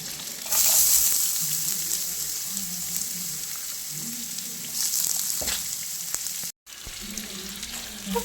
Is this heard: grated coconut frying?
yes